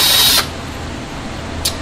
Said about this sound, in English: now we have our hole drilled for our bracket right here